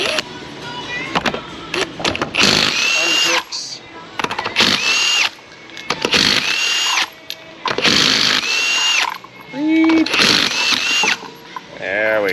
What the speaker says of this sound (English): I'm gonna go get a 3/4 inch gun